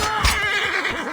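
A horse in Assassin's Creed Origins lets out one loud, close, wavering neigh, alone, lasting about a second.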